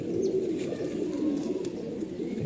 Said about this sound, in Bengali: এটা সিলভার কবুতর